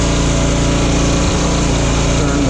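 A small gasoline engine runs steadily and loudly at a constant high idle, its dense buzzing drone unbroken from start to end, close to the listener with no speech.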